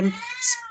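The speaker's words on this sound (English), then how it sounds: "Sorry about the cat as usual." A cat meows once during an online council meeting, a short tonal cry with a bright rising middle, heard close over faint background voice.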